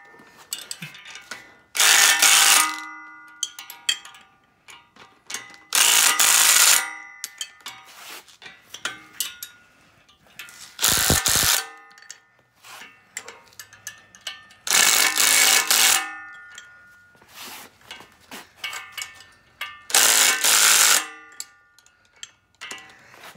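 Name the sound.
3/8 inch drive impact wrench tightening bolts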